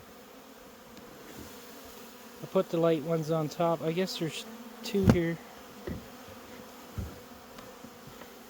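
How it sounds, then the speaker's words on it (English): Honey bees buzz inside a vehicle, a close droning hum rising for a few seconds with harmonic whine, while a person talks quietly nearby. "I just let the few bees that are in here out."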